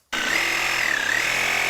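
A power tool cuts into a decayed wooden fence post, starting abruptly and then running in one steady, loud, high-pitched whine with a slight pitch dip midway. No voices are heard.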